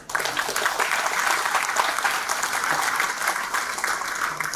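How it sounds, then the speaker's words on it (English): Audience applause at a talk on building a pharmaceutical company, dense and steady clapping at moderate level across several seconds without pause. "a round of applause for that"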